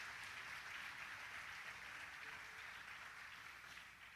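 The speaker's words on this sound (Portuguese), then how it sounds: "Você pode aplaudir a ele, por favor?" A church congregation applauds together in a steady, diffuse wash of clapping that holds evenly and fades slightly toward the end, distant and fairly soft.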